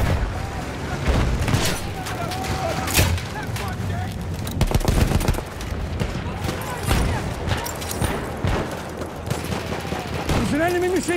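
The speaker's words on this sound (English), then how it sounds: "There's an enemy machine gun!" Machine gun fire from an enemy position rattles in Battlefield 1 multiplayer on PC, mixed with dense gunshots, booming explosions and shouting voices, loud and continuous throughout.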